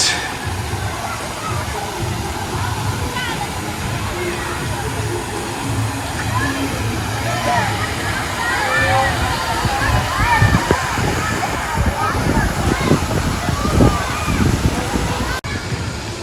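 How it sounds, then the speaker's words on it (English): Water splashing and sloshing at a small resort water park in Winter Garden, Florida, a steady wash of falling water and splashes heard from a moderate distance, with people talking over it throughout. "they also have a small water park"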